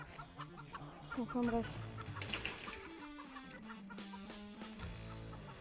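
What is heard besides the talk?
chickens clucking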